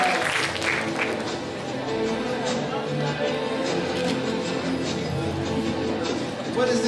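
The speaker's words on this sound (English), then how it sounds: "Let's give a round of applause for him." Audience applauding at the Genius Olympiad 2012 closing ceremony as the event director is called up, a sustained hall-wide clapping over a background hum, with a voice on a loudspeaker heard across it.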